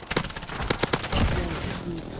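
Rapid bursts of video game gunfire crack out in quick succession, sharp loud shots with short gaps, while players talk over the action.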